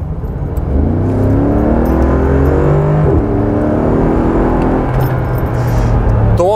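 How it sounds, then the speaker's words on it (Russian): A Mercedes-Benz G63 AMG accelerates hard, its exhaust giving a loud, close, rising engine drone that climbs through gears and swells again toward the end. "Во-первых, звук выхлопа настоящий"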